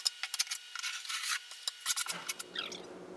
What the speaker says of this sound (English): we're going to take the adhesive back off so it doesn't dry. And you can just scrape it off.